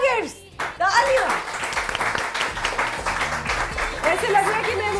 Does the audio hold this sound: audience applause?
yes